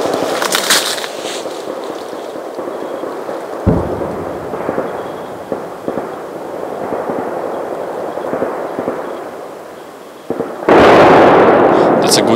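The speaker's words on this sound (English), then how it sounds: "And that's the firefight that we're hearing." A distant firefight in a forest in Ukraine, with muffled booms and cracks of gunfire and explosions rolling under a continuous noisy background, one sharper thump midway and a louder burst of rumble near the end.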